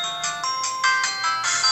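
An itel MAGiC X 4G keypad mobile phone plays its startup tone, a short bright melodic sequence of about eight electronic notes stepping along in quick rhythm, clear and alone.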